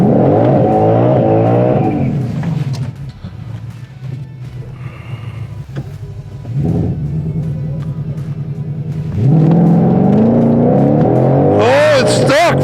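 A 2021 Ford Mustang GT500 on stock Sport Cup 2 tires aired down to 24 PSI revs loudly at a drag strip, its engine rumbling and rising through throttle blips with a sharp climbing roar near the end, over faint voices.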